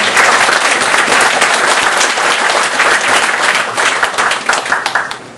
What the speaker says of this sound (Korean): 감사한 마음으로 다시 한번 박수를 부탁드리겠습니다